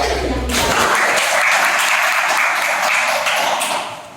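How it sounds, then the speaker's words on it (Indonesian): A classroom full of people bursts into loud, dense clapping that holds for several seconds and then fades out. "Oke, tepuk tangan."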